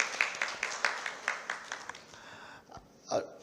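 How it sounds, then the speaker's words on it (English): Faint applause from an audience in a hall at a finance summit's inaugural session, a thin run of claps that fades out within a few seconds. "so a round of applause for Mr. Agarwal, please."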